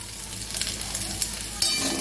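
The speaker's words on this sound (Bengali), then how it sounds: "একটু ভাজা ভাজা করে নেব ডাঁটা দিয়ে আর আলু হিং দিয়ে" Drumstick stalks and flowers frying with potato and asafoetida in hot oil, giving a steady close sizzle with occasional stirring scrapes and clinks.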